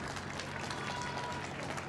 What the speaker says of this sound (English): Cruz getting some applause as he is replaced by Boakai.